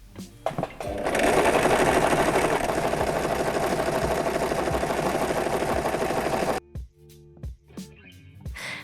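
A sewing machine stitches fabric in one continuous whirring run of about five seconds. Short clicks and handling noises come before and after the run, with no talk.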